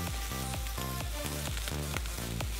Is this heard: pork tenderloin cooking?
yes